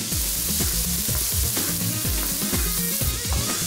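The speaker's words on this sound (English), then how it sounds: "Saute the onions until they turn light golden brown" Onions and curry leaves sautéing in hot oil in a pan, a dense steady sizzle with repeated stirring scrapes, close, with no talk.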